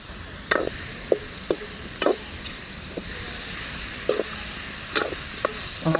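Mushroom palya frying in a pan, a steady sizzle broken by repeated short scraping clacks of a spoon stirring at an uneven rhythm.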